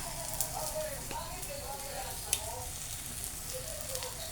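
Tortang dilis, an anchovy and egg omelette, frying in a pan with a steady, close sizzling hiss throughout and a couple of faint sharp ticks.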